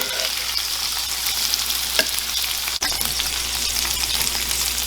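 Cheeseburgers and onions frying on a cast iron surface give a loud, steady, crackling sizzle throughout, broken only by a faint scrape and a brief tap.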